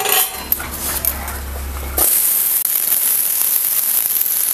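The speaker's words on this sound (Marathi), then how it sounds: "तर आपण तेलामध्ये ना कांदा घालूया." Chopped onion dropped into hot oil in a pan for an egg tawa masala, bursting into a loud, steady broadband sizzle that holds continuously after a brief burst of kitchen clatter and a low hum.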